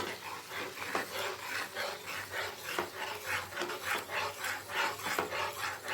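Tomato puree being sautéed and stirred in a pan for dhaba-style dal makhani, a spatula scraping back and forth in a steady, even rhythm, close and moderately quiet, with no talking.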